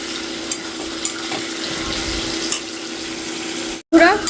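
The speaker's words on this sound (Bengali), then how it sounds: "এই ফুলকপি ভাজাটা বসালাম গাজর বিনস ক্যাপসিকাম সব দিয়ে" Cauliflower frying in a little oil on a gas stove with carrot, beans and capsicum, a steady close sizzle with a few faint clicks, then cutting out abruptly near the end before a brief louder burst.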